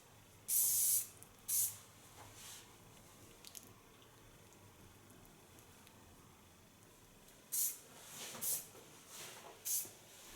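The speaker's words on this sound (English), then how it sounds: "the finishing hairspray gives also a lot of shine to the hairs." Lanza finishing hairspray is sprayed from a can in short bursts during hair styling. There are two sharp hisses near the start, then several more close together near the end, with quiet stretches between them.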